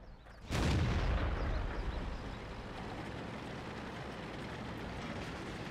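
A tank cannon fires in World of Tanks on the Westfield map, a single loud booming shot followed by a long rumbling decay and steady engine noise.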